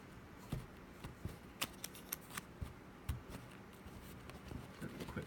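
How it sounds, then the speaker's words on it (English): Commission cards for a board game are shuffled with soft, irregular papery flicks and taps that come in short clusters, fairly quiet and close. "So I will shuffle these"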